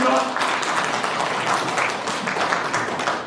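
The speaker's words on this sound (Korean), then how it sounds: "박수 한번 쳐주시죠" Applause from the audience at a county residents' town-hall debate, a dense steady clatter of clapping with crowd voices blended in, fairly close and unbroken.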